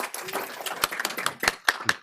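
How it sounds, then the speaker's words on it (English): Scattered handclaps at a school board meeting, a thin round of applause from a small group of people with a few sharper, louder claps standing out near the end, fairly quiet in the room. "So maybe just a round of applause welcoming him to Fargo Schools."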